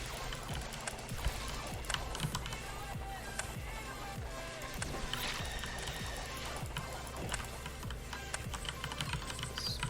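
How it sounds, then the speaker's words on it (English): Mages dying in the Heroes of Hammerwatch video game give off hollow, hoof-like clopping clicks in quick, irregular runs, layered over continuous game music and effects at steady loudness. "These mages dying sound like horses to me."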